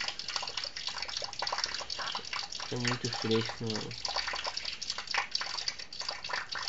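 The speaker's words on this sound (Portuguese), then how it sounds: "O gato bebendo água na bica." A cat drinks from a running faucet on a laundry tank while water pours in a steady, splashy stream. People talk quietly over the flow.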